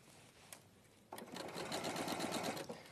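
Sewing machine stitching through a piece of leather, starting after a short quiet lead-in and running as a steady, close, continuous mechanical whir for about two seconds before slowing near the end.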